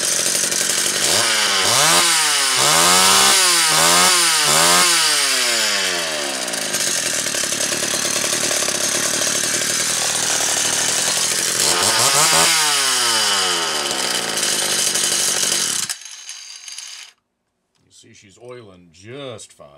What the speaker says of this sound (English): So, this thing is back in running shape. Let's take a listen. This won't be a cold start,